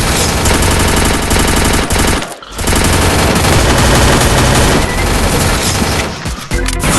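Gunfire in the mobile battle game Free Fire, dense rapid automatic bursts and booms that fill the clip loudly, pausing briefly twice before resuming.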